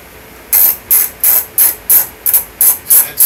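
A 10 millimeter socket on a ratchet wrench removing headlight bolts, a loud close run of about nine even ratcheting bursts in quick rhythm with no talking.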